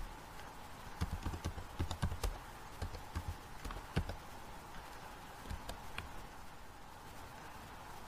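Faint clicking of keys on a computer keyboard comes in short irregular bursts over a quiet room hum, as a region is typed into an online tax form.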